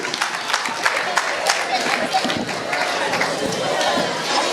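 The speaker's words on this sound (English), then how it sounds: "round of applause for Zainaba Bojan, please" A talent-show audience at a kids' competition gives a steady round of applause, dense clapping and crowd noise filling the hall for several seconds without a break.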